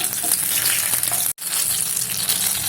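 Small eggplants fry in oil in a pan and are turned over, a steady, dense sizzle that carries on loud and close throughout, broken once by a brief dropout.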